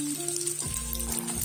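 Spring onions, green pepper, peas, green beans and carrots hit a hot pan for a beef stir fry, setting off a soft, brief sizzle with a light clatter, quiet and without talk.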